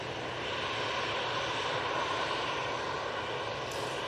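EasyJet airliner at Manchester Airport, a steady engine roar with a faint whine, fairly distant and unbroken, with no voices.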